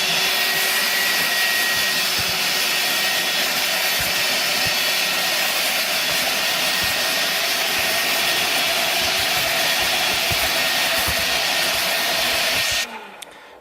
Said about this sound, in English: I'll go ahead and use this to vacuum the rest of this sand